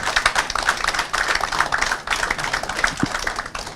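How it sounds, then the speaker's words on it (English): A live audience applauds a Ghanaian highlife musician at a highlife night, with dense, steady clapping that fills the whole stretch without pause. "please give the man a big round of applause"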